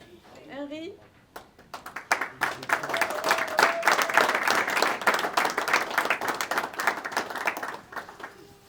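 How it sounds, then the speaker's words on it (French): A brief voice opens, then a graduation audience breaks into sustained, moderately loud clapping with distinct individual hand claps, while a voice briefly carries over the applause midway. "On va applaudir"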